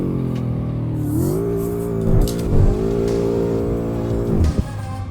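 A BMW M5 F10 V8 engine revs in Assetto Corsa, a steady deep harmonic drone that swells and dips through several throttle changes and shifts, loud and close with no talk.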